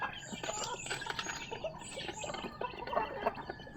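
Backyard chickens and ducks fed in the morning, clucking and calling together in a busy, overlapping chorus at close range, with bursts of louder squawks.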